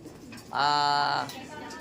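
A single soft, drawn-out bird coo, like a pigeon or dove, rises briefly over low background noise.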